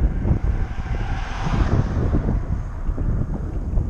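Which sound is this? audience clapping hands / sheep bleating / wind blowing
wind blowing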